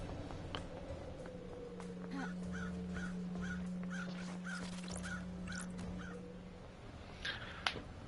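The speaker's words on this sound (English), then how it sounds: "I like the crows." Crows caw repeatedly in the Paradise Killer game world, a steady run of evenly spaced calls with a few louder caws near the end, set over a low hum and an ambient drone.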